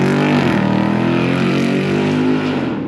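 A 2024 Ford Mustang GT V8 fitted with a Magnaflow exhaust drives up close, a loud, rich rumbling exhaust note that climbs in pitch as it accelerates, then eases slightly toward the end, with no talking.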